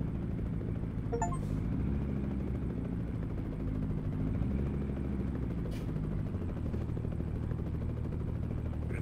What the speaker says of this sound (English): We've got the helicopter coming in.